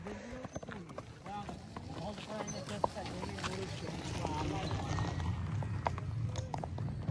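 A bay horse offered for sale, used in kok-boru games, walks with a steady clip-clop of hooves nearby while people talk over it.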